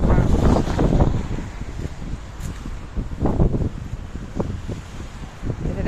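Strong wind buffets the microphone beside a giant roadside puddle whipped into waves, loud rumbling gusts that rise and fall irregularly, with no voices.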